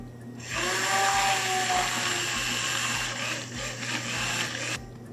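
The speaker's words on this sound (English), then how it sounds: "And we blend one more time to create a nice emulsion between the Cointreau, zest and the rest of the sorbet." A kitchen blender whirs steadily for about four seconds, emulsifying orange zest and Cointreau liqueur into sorbet, with a loud continuous motor drone and no talk.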